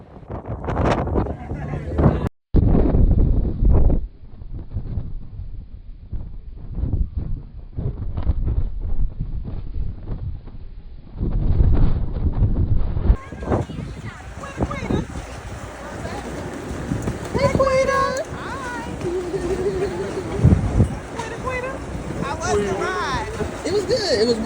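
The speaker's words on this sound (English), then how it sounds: "It was windy" Strong wind buffets the microphone on a boat ride off Belize, with rushing, uneven gusts and water noise across the whole stretch and people talking under the roar.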